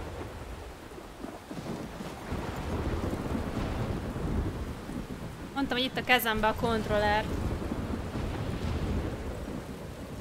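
A thunderstorm in the adventure game Life is Strange: a constant roar of rain and wind with deep thunder rumbling below. Someone speaks over it, and a brief high, whining tone rises near the middle.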